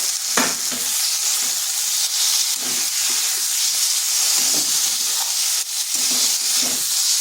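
Tomato with cumin, coriander, chilli and turmeric powders frying in a pan for a vegetarian cabbage dish, a steady loud sizzle with intermittent scraping stirs throughout.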